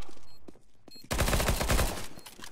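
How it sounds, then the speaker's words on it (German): Gunfire crackles in a competitive shooter video game match from a 99 Damage league round, a few sharp shots at first, then a loud sustained burst of rapid automatic fire, with no talk over it. "Zwanni kann einen schönen Schuss noch setzen"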